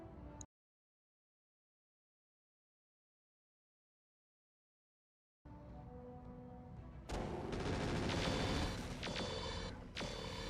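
Mech weapons firing in the BattleTech video game, a dense burst of booming, crackling gunfire and impacts after a stretch of silence, loud and sustained toward the end.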